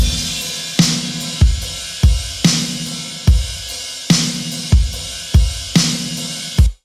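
A full drum kit pattern built from stock sounds in Logic Pro X for a praise and worship song, with steady kick and snare hits about every 0.6 seconds under a bright wash of cymbals, loud and close with no voices.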